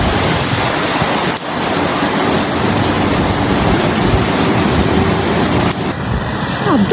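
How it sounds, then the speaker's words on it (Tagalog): Heavy rain falls in Dubai, a dense, continuous patter and hiss close by that stays steady from start to finish. "It's raining love"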